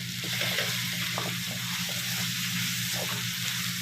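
Curry leaves hit hot oil with softened onions in a kadai for egg chukka, giving a constant close sizzle and crackle with faint stirring scrapes.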